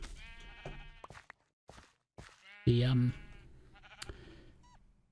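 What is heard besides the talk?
sheep bleating in Minecraft video game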